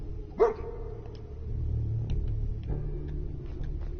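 In the Fallout 4 video game, a dog lets out a single sharp bark near the start, followed by low ambient hum and small scattered clicks.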